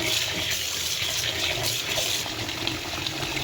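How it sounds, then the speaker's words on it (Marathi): Water is poured over wheat grains in a bowl to wash them, a steady splashing gush that runs continuously at moderate volume close by. "पुन्हा याच्यात मी आता हे पाणी टाकून घेत आहे."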